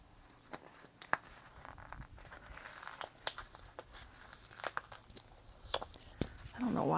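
Close, irregular crinkling and sharp tearing of a fabric package opened by hand, in scattered bursts over several seconds, with quiet rustling between.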